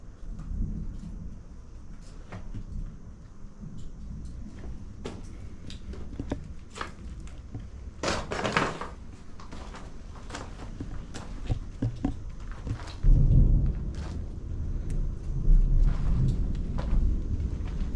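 A thunderstorm rumbles at an abandoned industrial site, low thunder rolling through steady rain and patter, with a brighter crack in the middle and heavier rumbling near the end.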